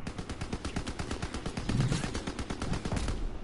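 Rapid automatic fire from an FG-42 rifle in a Call of Duty Zombies match, a dense, steady stream of closely spaced shots that runs loud and unbroken throughout.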